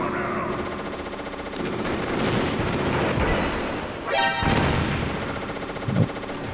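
Stinger missiles fire in the PC version of Metal Gear Solid during the Raven fight: a dense, loud barrage of blasts and rumbling booms, with a sharper rising whoosh midway and a punchy hit near the end, no talking.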